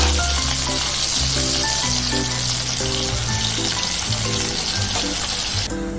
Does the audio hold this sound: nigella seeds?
yes